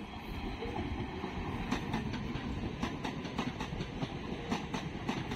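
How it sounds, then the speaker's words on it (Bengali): A Lalgola–Kolkata MEMU electric train pulls into Kasimbazar station, its steady rumble and rhythmic clickety-clack of wheels over rail joints filling the platform for several seconds, close and continuous. "দেখতে পাচ্ছ আমার ট্রেন চলে এলো, লালগোলা কলকাতা মেমু ট্রেন"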